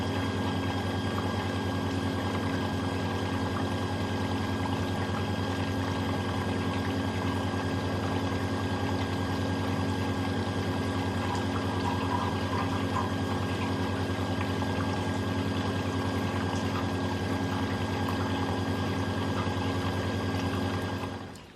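A Bosch Exxcel 1400 Express washing machine fills for a low-level rinse on a woollens 30°C cycle, giving a steady, loud hum and rushing water drone that runs unbroken throughout and cuts off at the very end.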